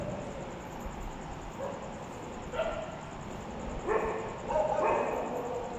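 A dog barks a few times at a distance: faint, short yips and barks scattered over the second half, with no talking over them.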